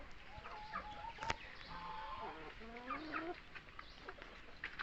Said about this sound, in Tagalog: andito po guys yung iba nating mga manok